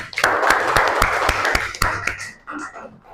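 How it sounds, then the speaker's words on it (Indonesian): Classroom students clap for a correct answer, a burst of sharp, irregular claps up close that thins out after two seconds, with a short voice near the end. "Kasih tepuk tangan"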